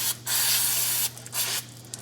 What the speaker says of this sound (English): I'm going to spray the bolt down with the brake clean also.